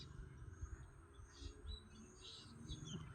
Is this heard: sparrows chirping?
yes